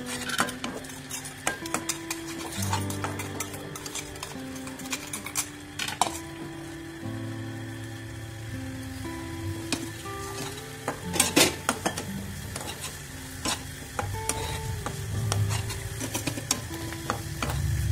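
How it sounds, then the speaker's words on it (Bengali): Spice paste for Bombay duck curry stirred and fried in a pan: a low sizzle under repeated scraping and clinking of a metal spoon against the pot, irregular and close, with no voices. "ভালো করে মশলাটাকে কষিয়ে নিচ্ছি।"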